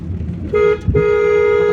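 A close car horn honks in city traffic, cut by a brief thump, then holds a long, steady blast over engine rumble.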